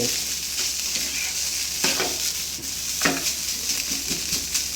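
A spatula scrapes and stirs rice for butter chicken fried rice in a sizzling frying pan, with steady frying hiss and a few distinct scraping strokes against the metal.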